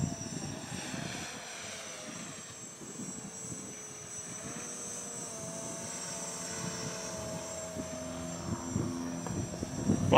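A Box Quad STEM kit quadcopter drone whines overhead while flying into the wind, its motor pitch wavering and rising, moderately distant and alone without voices.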